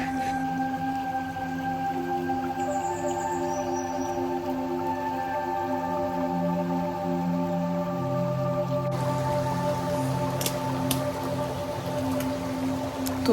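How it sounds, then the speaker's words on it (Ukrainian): A flowing mountain stream in Zakarpattia gives a steady, moderately close rush of running water with no break. A few faint tonal hums sit beneath it, and no one speaks. "знайшли струмок"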